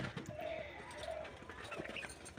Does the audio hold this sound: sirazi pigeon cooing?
yes